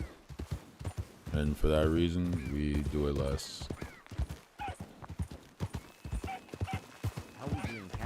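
Horse hooves clop in a steady rhythm while riding in a video game, mixed with a brief whinny, and someone talks over them throughout.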